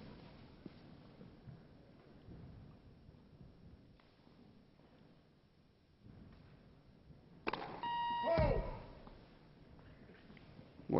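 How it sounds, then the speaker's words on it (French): An electronic service-fault beep sounds on the grass court at Wimbledon 2000, a bright sweeping tone rising over crowd murmur late in the rally, preceded by a louder burst of noise. "la petite sonnerie que vous entendez, c'est bien évidemment pour indiquer que la balle est faute au service"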